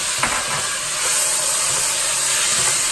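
Tomatoes go into a hot pan of spiced oil for okra curry, setting off a loud, steady hissing sizzle that swells slightly and holds, close up, with no voices.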